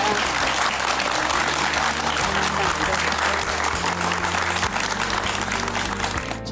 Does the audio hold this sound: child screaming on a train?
no